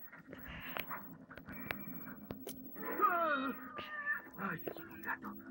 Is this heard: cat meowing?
yes